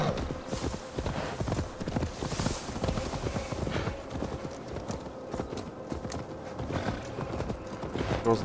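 A horse gallops in the video game Assassin's Creed Valhalla, with continuous rapid clip-clop hoofbeats and a faint game ambience and music behind them.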